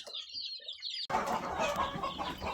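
Leghorn chickens clucking and calling close by, a few short bird calls at first, then a denser, louder stretch of clucking over farmyard background noise.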